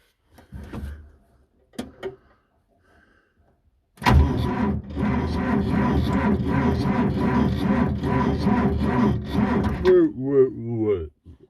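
A tractor engine cranks in freezing winter weather without catching, a sustained rhythmic grinding churn of the starter lasting several seconds and then dying away, preceded by a few short knocks and followed by brief murmuring.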